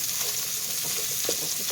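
Chopped onion sizzles steadily in hot bacon grease in a pot, a close, even frying hiss that stays at one level throughout.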